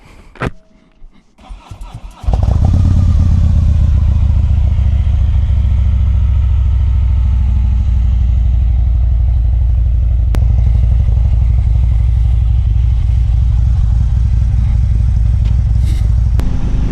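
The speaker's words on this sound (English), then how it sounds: "Let me give you a nice cold start before we head out and talk about it." A Harley-Davidson Street Glide motorcycle cold-starts after a few quiet clicks, catching at once into a loud, steady, deep idle that rumbles close up for the rest of the clip.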